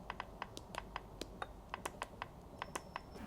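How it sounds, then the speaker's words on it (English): Light taps on the haptic virtual keyboard of a Huawei MateBook Fold, a foldable laptop whose touch keys play sound with vibration; a quiet, irregular run of about a dozen crisp clicks, close and alone. "the virtual keyboard will pop up, morphing into a haptic touch keyboard with sound and vibration"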